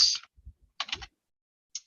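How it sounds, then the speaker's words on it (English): A few sparse keystrokes on a computer keyboard, soft clicks in small clusters with pauses between, close by and quiet with no voices. "So I'm typing in Teri at Cottage in the Court"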